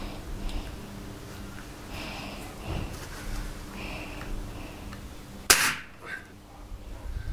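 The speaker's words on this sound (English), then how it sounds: "Let's quickly check the speed of the matchsticks when you shoot the matchstick from the air rifle." An air rifle fires a matchstick, a single sharp crack near the end standing out from a quiet room with low background noise.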